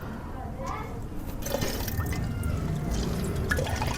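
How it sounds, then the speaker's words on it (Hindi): Water pours steadily into a sardai drink mixture, a continuous splashing, liquid wash that holds for several seconds at close range. "अब इसके अंदर मैं पानी डालूँगा।"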